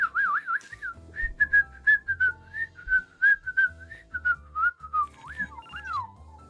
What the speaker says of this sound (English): A quick hat tip and ambled off with a whistle.